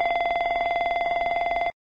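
Embraer E175 cockpit fire warning bell signalling an engine, APU fire or cargo smoke: a rapid, continuous electronic ringing with fast regular pulses, loud and steady for under two seconds before stopping abruptly, with no voices.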